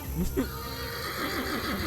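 A video game horse whinnies loudly and up close, a long wavering neigh, while a person talks over it.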